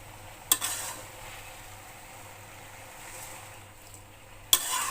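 Mixed wild greens frying with green chili, onion, garlic and salt, a low steady hiss in the pan with two sharp clanks of a utensil at start and end, no voices.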